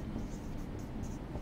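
A hand writes on a board during a classroom lesson, making faint, steady scratching strokes over a low background hum for about a second and a half.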